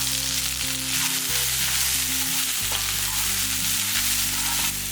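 Grated coconut sautéing in a pan over a stove: a loud, continuous hiss of sizzling with a steady low hum running beneath it throughout.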